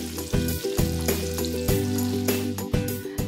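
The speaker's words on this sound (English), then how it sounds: "Our sauce is ready and our Noor oil is to the perfect temperature. It's time to fry." Nargisi kofta frying in hot Noor oil, a steady close sizzle with bursts of bubbling and crackle across the whole stretch, alone with no talk.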